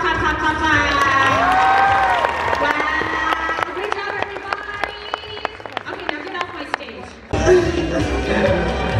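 An audience applauds at a cosplay masquerade, with sustained loud clapping and cheering mixed with speech over a sound system, ending in a brief pause and a fresh burst.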